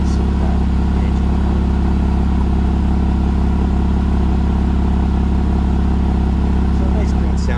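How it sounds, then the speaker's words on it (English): A 2006 Porsche Boxster S with a 3.2 liter engine and twin exhaust through a big oval center-mounted pipe idles in a steady, deep, smooth hum, loud and close, while someone talks over it. "So maybe the camera can zoom right in on that pipe and get a little bit of that engine."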